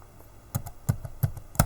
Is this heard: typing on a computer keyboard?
yes